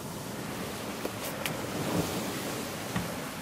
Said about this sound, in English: And we've got 15 plus knots of wind